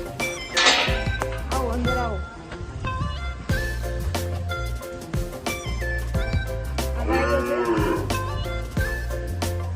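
Gir cows in a village cowshed give repeated loud, drawn-out moos, several animals calling close by over a steady background of barn noise and movement, with occasional knocks like a door.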